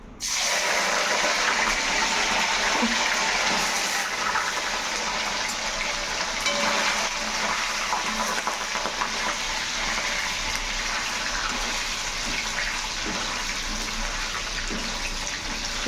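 Paneer cubes dropped into well-heated oil for a cashew paneer curry hiss and crackle in a steady, loud, broadband sizzle that runs on continuously, close up and with no talking.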